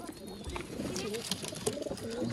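Soft cooing of female pigeons in short low murmurs, with faint voices and other bird sounds nearby.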